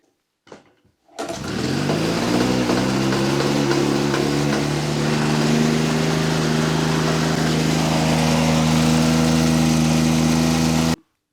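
A Motobecane Moby-X1 folding French moped engine idles fast and rough, its carburetor set too far open, starting after a short pause and then running as a steady, loud, buzzing drone close by with no talk.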